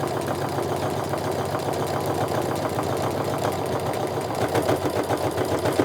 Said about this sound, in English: Now I'm just going to sew my 1/4 inch seam all the way down.